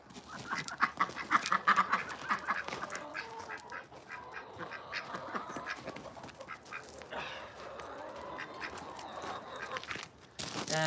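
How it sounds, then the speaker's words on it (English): Quiet, muted quacking from a male duck at an animal feeding, soft scattered calls mixed with other fowl and bird sounds over a low background. "You can also tell by the way that it's quacking."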